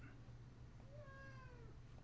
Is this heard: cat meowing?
yes